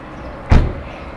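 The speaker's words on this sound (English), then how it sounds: "Shut the door again." A car door is shut with a single solid thud, loud and close, followed by a quick decay into quiet.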